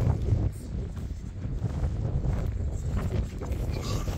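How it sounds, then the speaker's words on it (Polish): Wind buffets the microphone at an outdoor campsite with a tent, a continuous low rumble that holds steady throughout with slight gusty variation, no clear voices over it. "Mamy wiatr."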